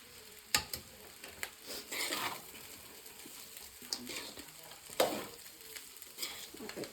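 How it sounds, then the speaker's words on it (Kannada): A spoon stirs tamarind rice with fried peanuts and grated coconut in a pan over a low flame. Soft, scattered scrapes and clinks rise over a faint, gentle sizzle, with no talking. "ಚೆನ್ನಾಗಿ ಮಿಕ್ಸ್ ಮಾಡ್ತೀನಿ."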